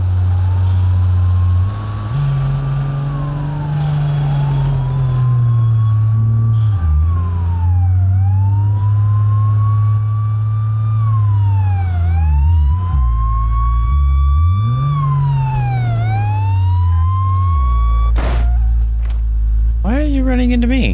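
Police car siren wailing loud and close in the BeamNG driving game, rising and falling sweeps repeating over a low engine drone, with a brief lower-pitched yelp near the end.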